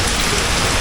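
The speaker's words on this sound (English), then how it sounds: "I'm out here in the drizzle" Steady rain during Hurricane Beryl in Kingston, Jamaica, heard as a dense, unbroken hiss of falling water on surfaces, loud and even throughout, with no voices.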